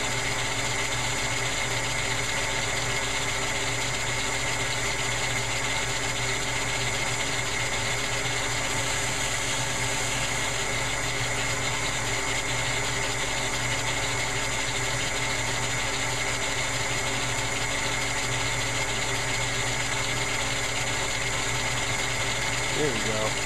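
A Lego inline four-cylinder engine model whirs continuously at a steady, even pitch, a dense mechanical hum with faint rattling throughout and no break in the running.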